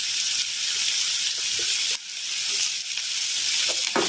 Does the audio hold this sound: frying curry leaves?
yes